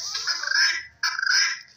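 A rooster makes repeated low clucking calls to summon hens, in two bursts with a short gap between them, close and fairly loud with no talking.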